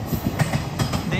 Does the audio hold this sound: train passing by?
yes